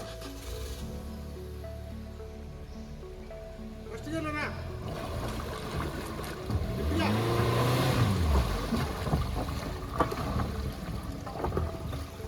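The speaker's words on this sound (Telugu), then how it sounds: "ఇంజన్ ఆగకూడదు" A boat engine runs steadily on the water, a low droning motor beneath splashing and wind, growing louder midway, with people talking over it.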